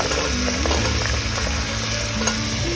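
Beans, carrots, knol-khol and potatoes for menthya pulav fry loudly and close in a pan. A constant sizzle runs under repeated stirring scrapes and clinks, with no voices.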